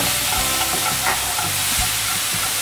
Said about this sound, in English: When you let that egg cook for a bit, then you add your frozen